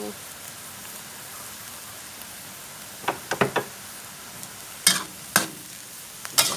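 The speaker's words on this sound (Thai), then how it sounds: "ผัดให้เข้ากันเลยจ้าทีนี้" Cabbage with three kinds of mushrooms and sauces is stir-fried in a pan, with a steady low sizzle and a few sharp scraping clacks of the spatula in short bursts.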